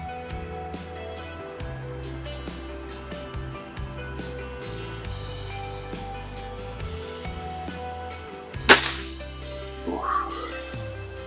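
A single sharp crack from a Weihrauch HW35E air rifle fired at a 25-yard target, standing out once against a steady outdoor bed of chirping crickets, followed by a faint softer knock.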